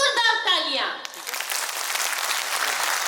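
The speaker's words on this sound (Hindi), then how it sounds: "और जोरदार तालियां।" An audience of women at a state-level conclave breaks into loud, sustained clapping that follows a speaker's voice at the start and carries evenly to the end.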